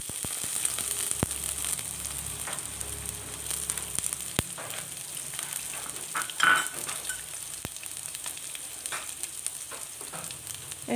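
Chopped onion sautés in a pan for pumpkin moli, with a soft continuous sizzle and scattered clicks and scrapes of a utensil against the pan.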